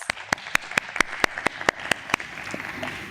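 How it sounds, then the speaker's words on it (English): An audience applauds at a stock exchange listing ceremony for Dharni Capital Services at BSE, producing loud, regular claps that ring out over a dense bed of crowd clapping, tapering off near the end. "Let's give a big round of applause to all of us."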